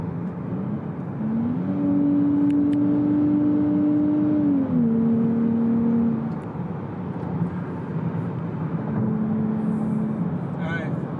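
A brand new 2023 Nissan Z accelerating hard while racing a truck: a steady, droning engine note that climbs in pitch, shifts, and climbs again under constant cabin road noise, heard from inside the car.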